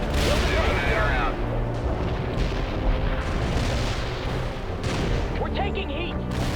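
Artillery fire in the real-time strategy game World in Conflict, heavy booming barrages and rumbling blasts rolling continuously, loud and close, with radio-style voice chatter over the top.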